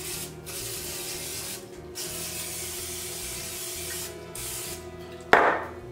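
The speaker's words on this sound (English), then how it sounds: "Spray it down real well again." Cooking spray hisses onto a waffle iron in a kitchen in several long, loud bursts separated by short gaps, ending with a sharp clatter.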